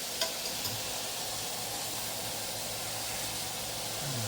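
Sausage cooking in a pan, a steady, fairly faint sizzle with a few light scrapes near the start as the meat is pushed off the sides, and no voices.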